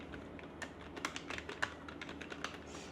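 Bangla text typed on a computer keyboard makes a quiet, irregular patter of close key taps over a faint room hum.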